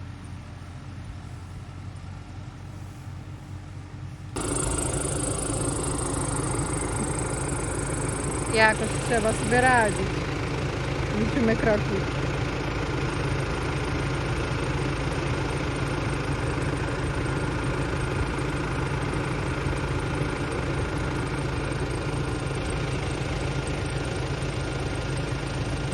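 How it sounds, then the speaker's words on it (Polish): A steady tractor engine drones at idle throughout beside a cornfield, with a person speaking briefly over it and some faint clanking in the middle. "ja wsiadam w ciągnik i lecę."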